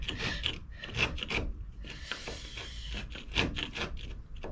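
A hand scraper rasps against the interior of a Dutch barge's steel hull in repeated close, gritty strokes, each push a harsh scratchy burst in an uneven rhythm.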